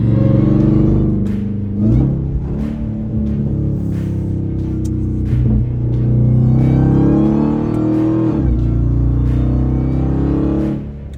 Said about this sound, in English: There's that supercharger whine.